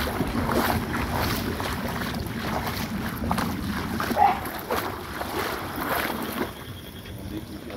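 Floodwater surging past a village house during heavy rain, a continuous rushing roar with gusty wind buffeting the microphone and a few brief knocks.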